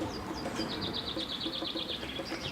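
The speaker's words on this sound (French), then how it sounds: "ces oiseaux me fatiguent. J'aimerais tant qu'ils arrêtent de piailler" Small birds chirp and twitter in a rapid, repeated series of high, quick notes over a busy garden background, fairly close and steady throughout.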